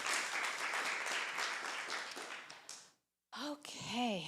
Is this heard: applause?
yes